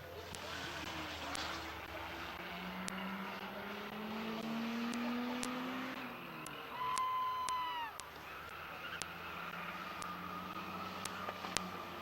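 A Honda VTEC 3.5 race car engine revs down the straightaway at a speedway demolition night, a rising and falling engine pitch heard at a distance over steady crowd and track noise.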